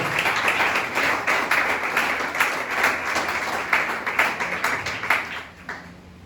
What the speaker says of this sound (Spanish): Den ese fuerte aplauso al Señor.